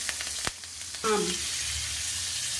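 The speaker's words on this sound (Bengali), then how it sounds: "এই মাছ ভাজা হচ্ছে" Katla fish pieces fry in hot oil with a steady, close sizzle, broken by a utensil clink early on and a brief louder crackle as something is added.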